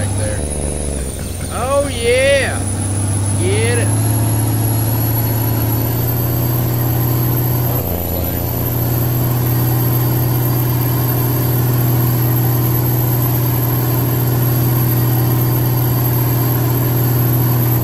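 Cummins diesel truck with a newly built transmission in Farm Simulator 22, its engine droning loud and steady with a heavy low rumble, briefly revving and shifting near the start before settling into a sustained roar.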